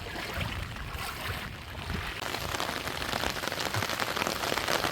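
Steady rain patters densely on a hard surface nearby, a constant hiss of drops with no pauses.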